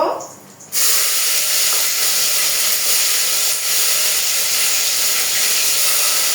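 Onion paste drops into hot oil with bay leaf and cinnamon for a mutton curry. A sudden loud whoosh of sizzling erupts and then holds as a strong, steady, close hiss.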